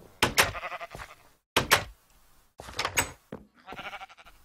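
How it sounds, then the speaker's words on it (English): Sheep in a Minecraft-style video game set in a Tolkien-themed Shire bleat in several short separate calls, close and fairly loud, with brief pauses between each bleat. "Hello, sheep!"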